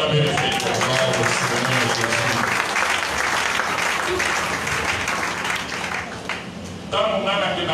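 A church congregation breaks into sustained, dense applause, loud and steady throughout, thinning slightly near the end while a voice carries on underneath.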